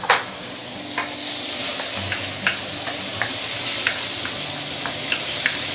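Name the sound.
spring onion, garlic and fermented chili sizzling in stir-fry pan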